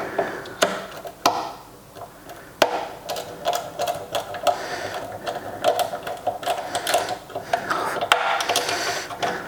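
Screwdriver driving screws into proper threaded holes, not self-tapping, while assembling a radio charge station: a close, irregular run of sharp clicks and ratcheting taps with brief scraping bursts, steady throughout.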